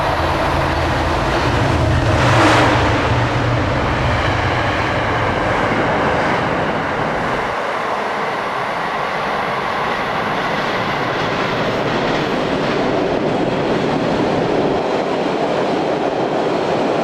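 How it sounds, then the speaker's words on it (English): A train rolls through Forest Hills station during rush hour in 2020. A loud, steady rumble of wheels and cars is broken by a brief squeal early on, then it settles into a continuous roar with no talking. "So, we have another train coming"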